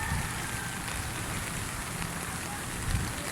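Floodwater covering Recto street, heard as a dense, constant wash of splashing and rushing water, steady and enveloping, with faint low rumbles beneath and no clear voices.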